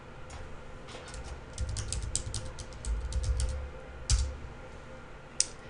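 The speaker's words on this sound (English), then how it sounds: "First, go to your web browser and type in FAFSA.gov." Typing on a computer keyboard at a desktop, a string of light, quick key clicks in bursts with short pauses, close and fairly quiet, with one sharper final tap near the end.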